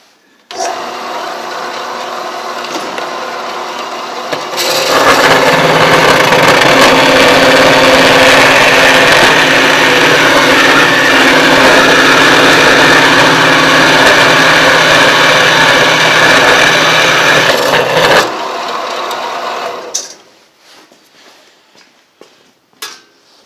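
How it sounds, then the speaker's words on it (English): A bandsaw slits through a piece of steel backed by wood, giving a loud, steady grinding rasp that holds for about fifteen seconds before cutting off, followed by a few light clanks. "So as you can see, this is by using the bandsaw, I didn't lose as much material."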